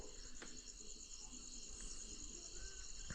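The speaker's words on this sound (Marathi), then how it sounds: "रातकिड्यांचा" Crickets chirp at night in a quiet rural setting, a faint, continuous high trill with a few soft distant sounds underneath and no one speaking.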